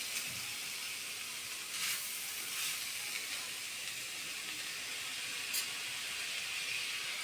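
Onions and tomato sauté in a pan, giving a steady, soft sizzling hiss that holds evenly throughout with no talking.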